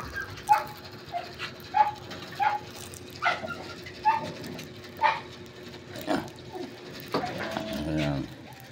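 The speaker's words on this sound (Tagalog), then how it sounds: "Yan po ang ating asong malaki." Big dog yipping and whining in short, repeated bursts while being fed bread, with a person talking nearby.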